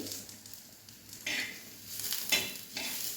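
Onions fry in oil in a pan over medium heat for a mutton gravy, a steady close sizzle broken by scraping stirring strokes, with no voices.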